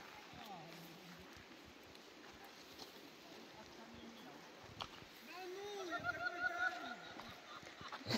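A horse whinnies outdoors in a mountain setting in Idaho, amid other horse sounds and hoof clip-clops, with people talking throughout and the activity growing louder toward the end.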